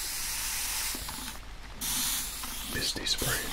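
A spray bottle gives a soft hissing mist in short bursts across the clip, fairly quiet against a faint background hiss. No one speaks.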